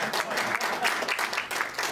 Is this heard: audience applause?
yes